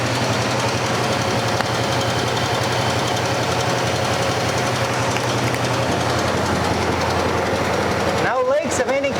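A 1986 Dodge Ram barn find engine idling steadily after 15 years of sitting, a continuous rough mechanical clatter and hum that runs unbroken before cutting out near the end, with a voice briefly heard over it.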